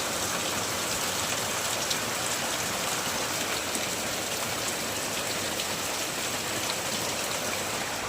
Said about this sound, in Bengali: সকাল থেকে একভাবে বৃষ্টি হচ্ছে, তো এখন খুবই জোরে এলো।